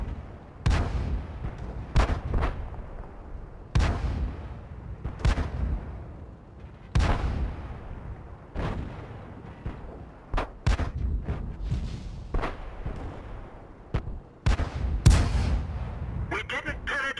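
Tank cannons firing in World of Tanks on the Ensk map, heavy booming shots every second or two with long rumbling decay, loud and close, some sharper cracks, with voices talking between the blasts.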